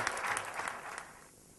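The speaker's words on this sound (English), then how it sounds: "please give a big round of applause for all the participating teams." An audience at an evening college event in Bangalore applauds the participating teams, a dense burst of clapping that fades away near the end.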